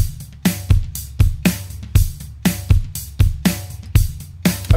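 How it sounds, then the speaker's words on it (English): A custom mixed drum kit built in GarageBand with layered snares plays a steady groove. Punchy kicks and crisp snare hits repeat in an even rhythm, loud and close, with no voices. "All together with the drums mixed individually, it sounds like this."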